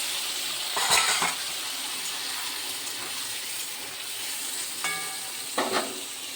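Spice paste loosened with water goes into a hot pan for a fish curry and sizzles continuously. The hiss is dense and steady, broken by a few clinks and scrapes of a utensil against the pan.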